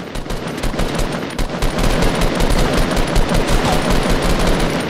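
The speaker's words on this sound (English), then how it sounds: "we're getting shot from other angles" Loud, rapid automatic gunfire in Fortnite Battle Royale, dense bursts of shots crackling almost without a break for several seconds.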